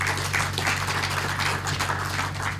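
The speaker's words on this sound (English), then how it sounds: "Give yourselves a round of applause for that." An indoor event audience claps together, a dense patter of many hands sustained at a fairly loud level throughout, with no voices over it.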